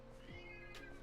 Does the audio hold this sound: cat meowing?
yes